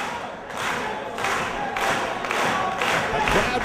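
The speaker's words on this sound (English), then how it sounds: "The crowd now rallying behind Chetti." A wrestling crowd at the ECW Hardcore Homecoming event roars for Chris Chetti in rhythmic, pulsing swells of cheering and chanting from a large arena audience.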